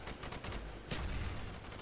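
Gunfire rattles through a Call of Duty: Black Ops firefight, dense cracking shots with a heavier report midway through, loud and continuous.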